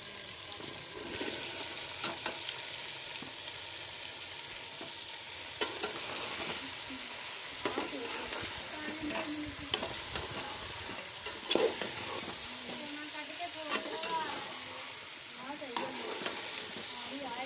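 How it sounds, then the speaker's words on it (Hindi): Pumpkin pieces fry in a hot pan for dal and are stirred steadily, a continuous close sizzle with scraping stirs on top and no talk. "इसे हमने अच्छी तरह से हिलाना है ताकि ये नीचे ना लग जाए"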